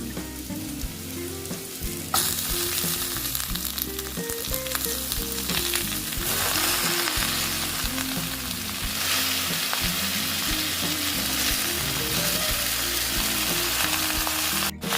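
Potatoes and bottle gourd greens frying in a pan, a loud, close, continuous sizzle that jumps up as the greens go in and stays strong throughout, with a melodic tune running underneath.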